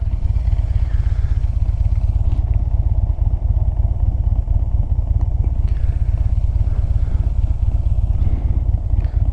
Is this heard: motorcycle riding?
yes